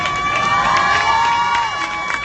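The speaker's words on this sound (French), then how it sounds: "Énormément d'applaudissements pour toutes ces jeunes filles" Outdoor crowd at a Nuit Debout rally in Paris cheers and applauds loudly, a continuous wash of shouting voices and clapping throughout.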